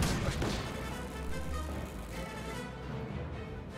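A flak burst in a World War II strategy game, a dense loud crash with rumbling debris that fades over a few seconds.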